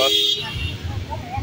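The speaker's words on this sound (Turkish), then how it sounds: "sokakta korna sesleri var." A short car horn toot sounds in a street market in Nicaragua where cars drive through, followed by traffic rumble and nearby chatter.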